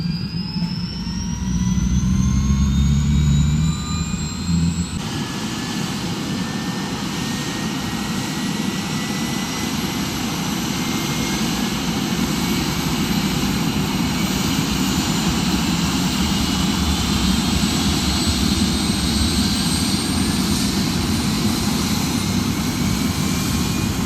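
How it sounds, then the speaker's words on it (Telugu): Helicopter turbine engine winding up for a festival joyride at Medaram, a loud steady whine with rising tones and a constant roar filling the cabin for the whole stretch. "సో మనమైతే ఈ హెలికాప్టర్ అయితే ఎక్కేసాము"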